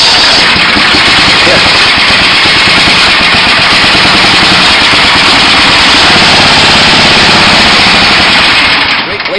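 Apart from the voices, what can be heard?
Tecumseh 18 hp engine starting, 1979 Sears GT 18 tractor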